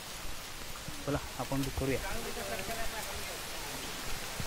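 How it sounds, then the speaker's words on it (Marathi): Continuous rain falls on a trek up Manikgad Fort, a steady hiss of drops throughout with a person speaking briefly over it. "इथे असं पाऊस कंटिन्युअस पाऊस"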